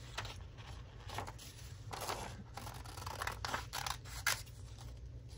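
Scissors snip out small paper pieces for a creative journal, a steady run of close, soft cuts and paper rustles with short pauses between them.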